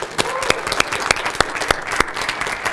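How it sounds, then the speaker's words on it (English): A small group claps to congratulate a colleague who just earned a CFI, in a talk with an American Airlines A320 check airman; scattered, sharp hand claps with distinct individual strikes, fairly close. "Big round of applause"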